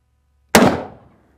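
A single loud Colt Anaconda revolver shot, fired single action from a rest, cracks sharply once and rings out into a decaying tail, with no talk over it.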